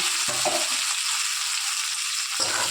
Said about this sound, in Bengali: এখন আলুটা ভেজে একটু হলুদ দিয়ে ভেজে নেব